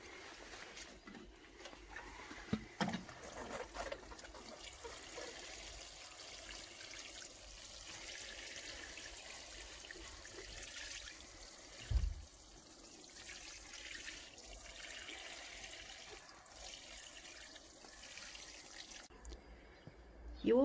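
Water is poured into a bone-dry garden pot during steady rain, a soft trickling and splashing that runs continuously and stays fairly quiet, with a louder splash near the middle.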